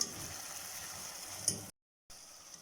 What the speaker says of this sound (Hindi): आलू अच्छे से फ्राई हो गए हैं